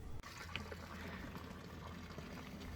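Water from a tap on a river pontoon pours steadily into the Seine, a low continuous splash and trickle close by, with no voices.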